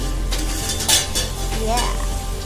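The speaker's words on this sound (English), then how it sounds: "this onion is almost done, but I will fry a little more" Onions fry in a pan with a steady, close sizzle and some scraping as they are stirred, continuous and fairly loud with no talking.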